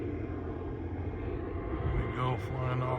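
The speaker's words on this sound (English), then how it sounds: "that's a life flight helicopter flying above me" A life flight medical helicopter passes overhead outdoors at a desert camp, giving a steady, fairly loud low rumbling engine drone that thickens toward the end, with faint talk mixed in.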